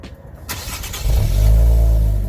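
An Infiniti Q50 with a stock muffler starts up: a short cranking burst, then the engine catches and settles into a steady, fairly subdued low idle, with no talking.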